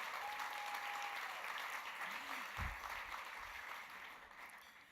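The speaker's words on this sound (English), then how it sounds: "I'm gonna clap for him." An audience claps together at a tribute awards event honoring documentary filmmakers, a sustained, fairly faint wash of applause with a brief low thump partway through.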